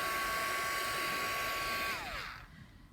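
A heat gun blows hot air in a loud, steady whine with a high tonal hum, close by, then winds down as the motor slows and the pitch drops away.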